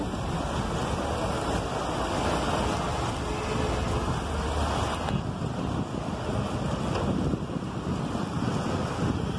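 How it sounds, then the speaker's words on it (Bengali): Heavy rain pours steadily outside an office on a day when the sun is still shining, a dense, continuous roar that stays loud and even throughout with no voices. "ঝমঝমে বৃষ্টির শব্দ"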